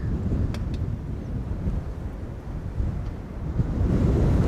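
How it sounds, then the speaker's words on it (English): Fierce wind buffets an outdoor microphone at Schiphol Airport, a steady low roar with gusty surges that swell louder toward the end. "The wind is still fierce, as you guys can tell."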